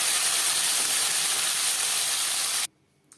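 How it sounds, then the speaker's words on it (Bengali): Small puti fish fry in hot oil with a loud, steady, broadband sizzle that stops abruptly near the end, leaving near silence. "অল্প অল্প করে ভাজলেই বেশি ভালো হয়।"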